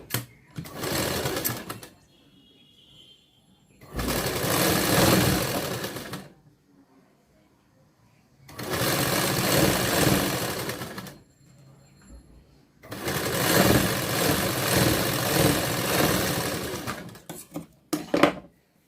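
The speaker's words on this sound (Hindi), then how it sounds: "अब दूसरी वाली पट्टी को भी सेम इसी तरह से हम पहले सिलाई लगाएंगे 1/2 इंच के ऊपर" Sewing machine stitching a blouse piping strip, running in four loud bursts of rapid mechanical whirring separated by quiet pauses, close up, with a short final burst at the end.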